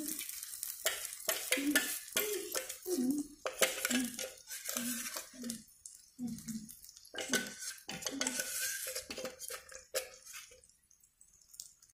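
Ground ginger chutney frying in tempering oil for pesarattu, idli and dosa, close sizzling with repeated scraping stirs and clatter of a spoon against the pan, fading toward the end.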